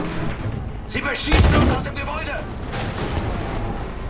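An explosion in the World War II shooter Battlefield V: a single sharp blast with a low boom and crackling tail, set amid busy gameplay noise.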